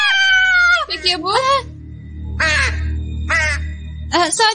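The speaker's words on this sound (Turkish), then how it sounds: "Sadece bir karga." A crow caws in a series of harsh, loud calls coming in several bursts, with a cartoon voice speaking between them in the Turkish-dubbed animated Sabrina series.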